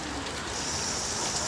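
Steady rain falls while the sun shines, a continuous dense hiss of drops with no breaks, fairly close and even throughout.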